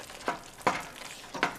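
Homemade sausage stirred into marinara pasta sauce in a pot, three soft, wet scraping strokes of a spoon at a slow, uneven pace, close and moderately loud, with no talking.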